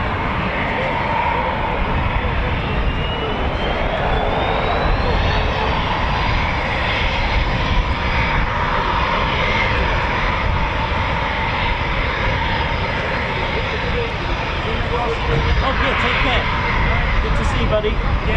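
A Eurofighter Typhoon Tranche 2 jet arriving at RAF Coningsby produces a loud, sustained engine roar with a rising whine, steady throughout and close.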